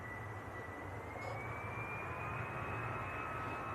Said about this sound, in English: And the engines are revving up now, so EasyJet just about to roll.